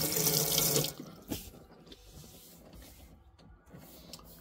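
Water gushes from the sink tap in a Ford Nugget Plus campervan kitchen, a loud, close splashing stream that cuts off after about a second, leaving faint handling noises.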